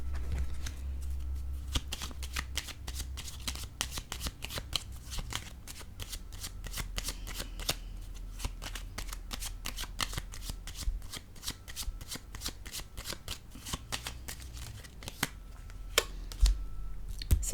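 A deck of cards is shuffled for a tarot-style reading, crisp riffling clicks and snaps repeating in a fast, close run, with quiet room tone beneath and a few heavier slaps near the end.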